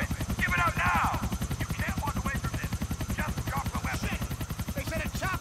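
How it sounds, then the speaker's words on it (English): Steady, rapid thudding of helicopter rotor blades in the video game GTA 4 fills the clip, loud and close, with chirpy game-like effects and brief bursts over it. "Helicopter."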